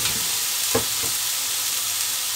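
Vegetables and spices for a rui fish curry with cauliflower and beans fry together in a pan, a steady close sizzle with a couple of brief stirring scrapes and no talk.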